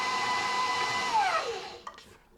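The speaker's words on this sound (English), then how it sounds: "after I stop this mixer and scrape my bowl" An electric mixer beating four-egg cake batter for a 1-2-3-4 cake whirs with a steady high whine, then winds down in pitch as it stops, leaving a couple of soft clicks.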